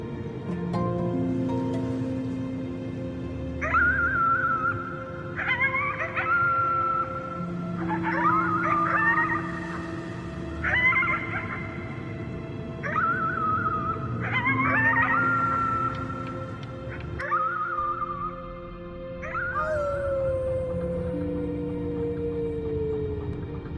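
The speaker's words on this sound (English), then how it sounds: "You howled at the moon at the top of your lungs." Child howling at the moon in the game Before Your Eyes, a run of rising, wavering yelps and long howls repeated over a soft music bed, ending with a falling drawn-out wail.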